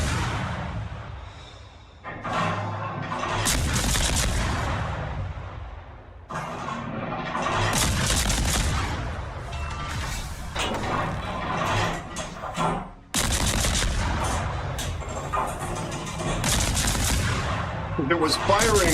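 Heavy booming naval gun salvos from warships in World of Warships, several loud blasts with long rumbling tails spaced a few seconds apart, a voice speaking between them.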